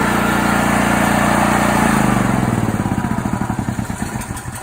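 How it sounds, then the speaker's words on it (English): A 7000-watt gasoline rental generator engine runs steadily, then its speed drops as it idles down, the drone lowering in pitch and breaking into a pulsing, uneven putter toward the end; loud and close, with no voices. "Machine comes up to temperature, it's going to start to bring that RPM down."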